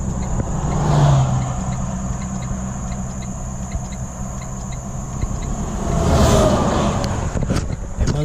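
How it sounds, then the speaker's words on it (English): Vehicles rush past on an interstate beside a truck parked on the shoulder with a blown tire, loud whooshing passes near the start and again around six seconds over a steady engine idle and road drone. "It's a little hairy sitting here on the side of the interstate."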